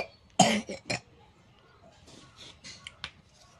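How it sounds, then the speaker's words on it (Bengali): A young child coughs a few times in quick succession, sharp and close, followed by softer faint sounds in a quiet room. "কিসে কাশি পায়"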